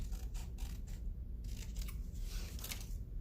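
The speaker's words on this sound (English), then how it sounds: "I'm just going to cut one out." Scissors cut a paper butterfly out for a handmade card, with a series of quiet, close snips and crisp paper crunches in an irregular rhythm and no talking.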